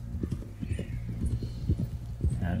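Horse hooves clip-clop in the Red Dead Redemption 2 video game, a steady rapid trotting rhythm close and clear, with faint talk in the background.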